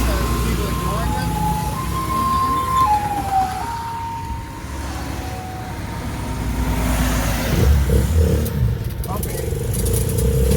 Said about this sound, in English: there's something coming, the ambulance